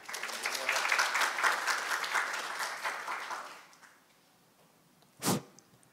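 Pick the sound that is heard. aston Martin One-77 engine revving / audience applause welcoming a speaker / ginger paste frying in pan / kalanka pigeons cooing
audience applause welcoming a speaker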